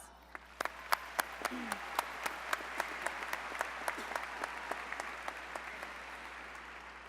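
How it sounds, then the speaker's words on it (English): A graduation commencement crowd applauds steadily, claps blending into a dense wash with a few sharper claps standing out, continuing without letup. "Let's give them a round of applause."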